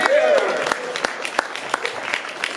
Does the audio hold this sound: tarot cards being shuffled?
no